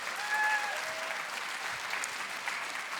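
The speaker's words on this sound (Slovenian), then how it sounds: "dejmo en velik aplavz za Merkur zavarovalnico" Audience applause for the sponsor Merkur insurance at an exclusive charity concert, a steady dense clapping from a large crowd that holds evenly for about three seconds.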